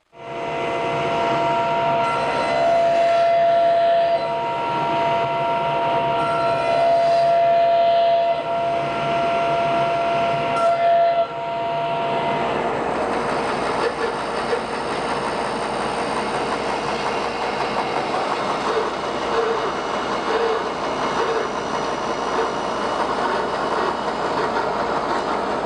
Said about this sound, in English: I'm going to finish out the cut on the bandsaw